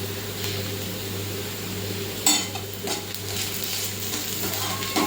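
Onions sautéing with ginger garlic paste in a pan for pav bhaji, a steady close sizzle with occasional spoon scrapes and a clank.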